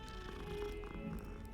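Soft, steady purring of a cat in a video game, continuous and low, with faint background music and tones underneath.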